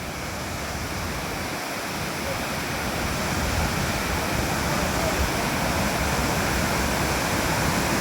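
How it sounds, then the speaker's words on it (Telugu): Kothapalli waterfall near Vizag, swollen after heavy rains, roars as a loud, steady broadband rush of falling water that stays unbroken throughout, with no voices heard. "చూడండి ఈ కొత్తపల్లి వాటర్ ఫాల్స్ ఎలా ఉందో"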